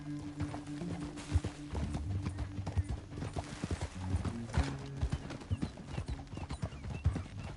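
Steady clip-clop of horse hooves with rhythmic thuds and an occasional whinny in the video game Red Dead Redemption 2, close by, against a low ambient background.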